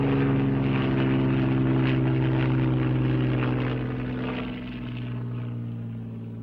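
A Hawker Hurricane propeller fighter plane drones steadily with a deep harmonic engine hum, loud and sustained, easing slightly in volume toward the end.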